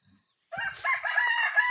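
A rooster crows once, loud and fairly close, after a brief quiet moment, its call rising and holding to the end.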